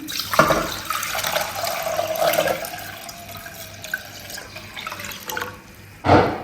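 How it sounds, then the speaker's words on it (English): Water is poured into a pan while making a cinnamon drink, a short splashing gush with gurgles and a clatter near the end, close by. "Let's go ahead and add water to the pan."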